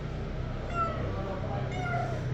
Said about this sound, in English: Hey, yeah, hello, kitty.